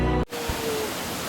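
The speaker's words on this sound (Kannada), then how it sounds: "ಕಡಮಗುಂಡಿ ಜಲಪಾತ ಅಂತ ಅಂತಲ್ಲ" Kadamagundi waterfall near Didupe, Dharmasthala, a steady broadband roar of falling water that briefly drops out and then returns, loud and close, with no voices.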